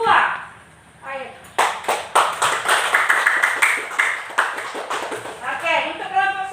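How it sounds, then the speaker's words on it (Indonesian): A classroom applauding the best discussion group, a few seconds of uneven clapping from a small group following a teacher's voice, with talk resuming at the end. "Nah, Ibu beri aplaus kepada kelompok 2"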